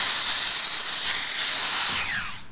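Loud, close hiss of steam sprayed onto the top of a felt hat being shaped, a continuous broad rush that holds steady for about two seconds and then tapers off.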